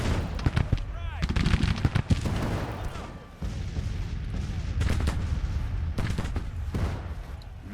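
Dense musket volleys crackle from massed troops in Grand Tactician: The Civil War, with sustained rolling gunfire, sharp overlapping cracks and heavier booms that continue almost without pause, loud and close.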